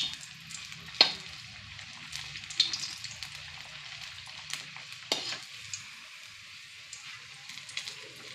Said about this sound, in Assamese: আচলতে ৰিফাইন তেল লাগে ভাজিবৰ কাৰণে, কিন্তু মই মিঠাতেলেৰে ভাজিলোঁ।